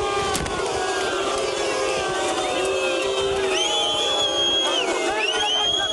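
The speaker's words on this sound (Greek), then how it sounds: "Πρωθυπουργέ, παρετήσου, φωνάζει το πλήθος" Angry crowd of protesters, many of them relatives of dead coal miners, shouting at Turkish Prime Minister Erdogan to resign, a continuous loud roar of voices with rising individual yells and whistles.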